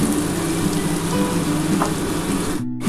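Spiny gourd (kakrol) slices frying in white oil, a close, dense, steady crackling sizzle that fills the whole short stretch without any voice.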